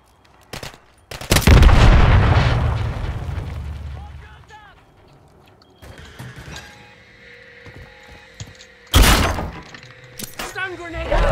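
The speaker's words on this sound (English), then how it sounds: "Stun grenade" A stun grenade detonates in a Call of Duty match set in Urzikstan, a sharp loud bang with a ringing, decaying tail, followed by scattered in-game gunfire and clatter while players talk.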